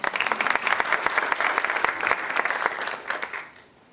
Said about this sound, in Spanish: Pido que recibamos a Rosario con un fuerte aplauso.